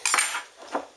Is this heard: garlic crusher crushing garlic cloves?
yes